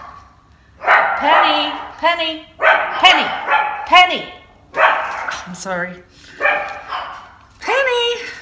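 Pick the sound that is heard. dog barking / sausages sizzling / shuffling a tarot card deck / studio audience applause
dog barking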